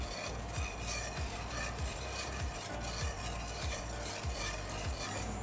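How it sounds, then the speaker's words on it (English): A spoon scrapes steadily through a flour and butter sauce as it thickens for vegetarian lasagne, in an even back-and-forth rhythm under a continuous soft cooking hiss, with no talking. "You just have to keep stirring it until it thickens."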